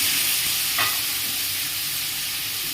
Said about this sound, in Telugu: దీంట్లో లిటిల్ హల్దీ, టమాటాలు మొత్తం వేసి కలుపుకుందామండి.